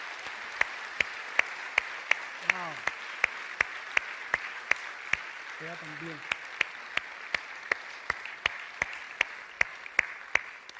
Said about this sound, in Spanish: Yo quisiera darle un fuerte aplauso a estas personas.